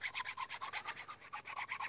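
Steady rasping strokes of a hand file across olive wood, shaping a pipe, about eight per second, close and continuous with no voices.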